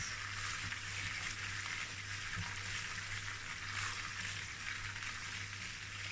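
Beef pieces fry steadily in a pan, giving a continuous close sizzle with a low hum underneath and no talking.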